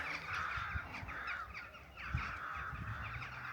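Crows caw repeatedly in open parkland outside a stately home, harsh calls overlapping against a steady outdoor background with no talking.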